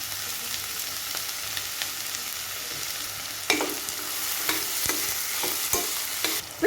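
Tomatoes sauté in a pan for an oyster mushroom biryani: a steady hiss of frying with occasional clicks and scrapes of a spoon stirring against the pan.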